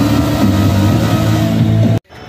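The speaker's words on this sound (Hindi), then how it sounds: "अभी चल रहा है फिलहाल इन लोगों का burn out, they are burning tyre M" A motorcycle burnout at a Hero MotoCorp stunt shoot: a loud, close engine revs hard in a steady, harmonic roar with tyres burning, then cuts off abruptly after two seconds.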